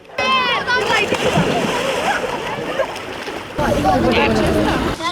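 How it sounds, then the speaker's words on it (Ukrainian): Children leap from the shore into a pond on a hot day, sending up loud repeated splashes and sloshing water close by, mixed with shouting and chatter from people around. "Дітям до вподоби стрибати у воду з берега."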